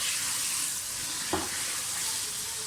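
Mutton bhuna-style in a pot for degi palak gosht makes an even, loud, unbroken sizzle, with a single soft knock of a spoon midway and no speech.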